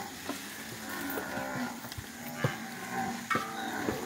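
Cattle being driven along a road by a traveling herd drive low and moo repeatedly, overlapping calls near and far over a rustling, crackling background of hooves and movement.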